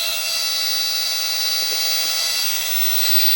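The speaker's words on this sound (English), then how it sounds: "Turn the Dremel off." A Dremel rotary tool whines at a steady high pitch while power carving wood, loud and close with a constant tone and a faint brief scrape partway through, no voices.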